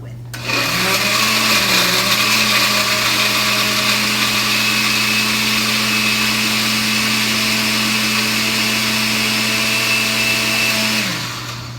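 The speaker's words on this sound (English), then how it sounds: "So let's blend to see what we come up with." A countertop blender whirs loud and steady as it blends a smoothie of ice, avocado and Greek yogurt, holding a constant motor drone with a brief pitch wobble at the start before cutting off.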